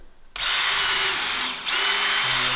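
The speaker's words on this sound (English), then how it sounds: "then just drill this in" A power drill drives screws into a wooden top cap with a loud, steady high whine that dips briefly midway before spinning up again, close and alone.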